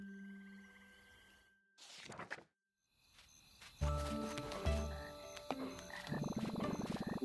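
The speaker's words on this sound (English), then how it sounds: "Check out these singing frogs." Frogs sing in a night swamp in the video game The Plucky Squire, with layered croaks and chirps forming a musical chorus. It rises after a brief silence and builds into a dense, rhythmic blend.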